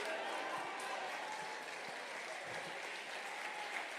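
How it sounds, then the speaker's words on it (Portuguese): Audience in a church service clapping, a broad continuous wash of hands with a crowd murmur underneath, steady in level throughout, heard from a distance in a large hall. "Se essas palmas são de esperança, aumente elas"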